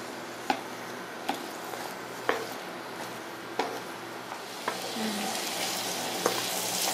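Potato curry with beetroot gets stirred in a pan, a spoon knocking sharply against the metal every second or so over a soft, steady sizzle that swells slightly near the end.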